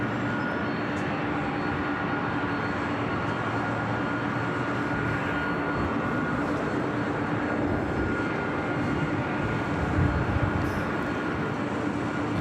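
An ITA Airways Airbus A350-900 jet at Los Angeles International Airport, heading for Rome, gives a steady, broad engine roar that holds at a moderate distance for the whole stretch, with no voices over it.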